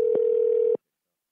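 A single steady telephone tone sounds for under a second as a call is placed to a revenue service line, with short dialing blips at its start and end before it cuts to silence.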